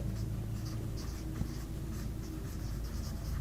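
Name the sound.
writing out a math problem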